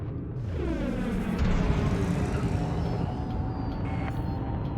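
Spaceship engines powering up in Elite Dangerous, a deep rumbling roar that builds with a rising, sweeping whine over nearly five seconds, loud and close with no talking.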